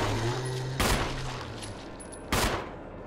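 Two sharp gunshots ring out about a second and a half apart in Resident Evil 1 Remake, each a loud broadband crack over a steady low in-game hum, with no voices.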